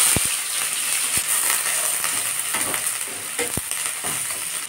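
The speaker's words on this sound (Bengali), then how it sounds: "একটু পাঁচফোড়ন দিয়ে দেবো। পেঁয়াজ কুচিটাকে ঢেলে দেবো।" Chopped onions poured into hot oil with panch phoron in a kadai, giving a steady loud sizzle and fry throughout, broken by a few sharp clicks and knocks of a utensil against the pan.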